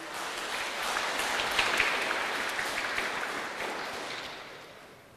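A conference audience applauds the morning's speakers, a steady wash of clapping from many hands that swells briefly and then gradually tapers off, somewhat distant, with no talking.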